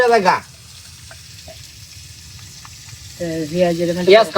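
Onions sizzle steadily as they fry in a home-kitchen pan, a constant hiss that fills the gap between voices talking at the start and end.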